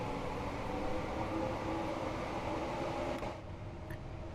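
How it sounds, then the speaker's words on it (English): Trains in the Train Sim World video game rumble in the distance, giving a steady, dense mechanical drone that eases slightly near the end, with no voices. "You hear other trains all over the place,"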